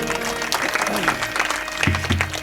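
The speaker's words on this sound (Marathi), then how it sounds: "माझ्या भगिनीसाठी एकदा जोरदार टाळ्या होऊ द्या." An audience at a kirtan claps for a singer, with dense close applause running throughout, mixed with a speaking voice over it.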